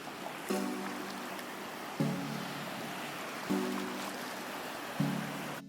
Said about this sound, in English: Beach waves.